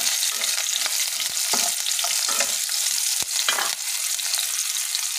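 Chopped onions fry in hot oil with nigella seeds, a dense, loud sizzle running throughout, punctuated by repeated scrapes and clicks of a utensil stirring the pan, with no talk.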